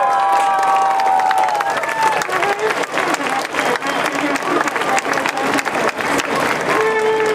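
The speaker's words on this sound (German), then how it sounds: "Großer Applaus!" A crowd at an anti-abortion protest rally in Vienna claps loudly and cheers as a speaker is welcomed onto the stage, dense continuous applause with whoops and brief voices rising over it.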